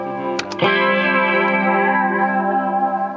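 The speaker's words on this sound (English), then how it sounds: "The Leslie's DLS thing. Which does a convincing wobble." A sustained electric guitar chord shimmering with a Leslie rotary-speaker wobble effect, after a couple of quick picked attacks, ringing out and slowly fading.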